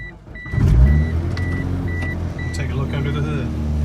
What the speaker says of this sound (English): The next thing people wanted was to hear the engine start